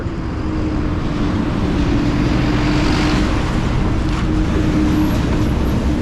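A city bus passes on a street in Tetlan, Guadalajara, its steady engine rumble and road roar loud and continuous throughout, close by with no talk.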